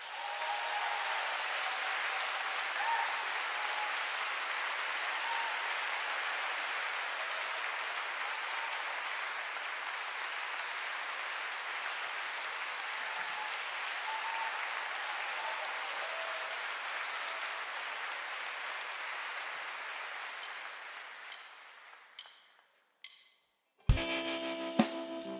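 A concert audience applauds to welcome a singer: sustained, dense clapping holds steady for over twenty seconds, then thins out and fades into a few scattered louder claps and thumps at the end.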